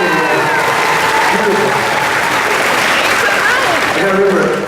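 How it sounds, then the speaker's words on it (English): Loud, continuous applause from a big audience at an outdoor park event, thick clapping with scattered cheers and chatter mixed in across the whole stretch. "So one more round of applause for Carl"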